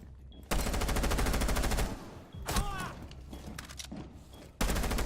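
A low-recoil gun in Rainbow Six Siege fires long automatic bursts, rapid and evenly paced, loud and close, breaking off briefly between strings of shots.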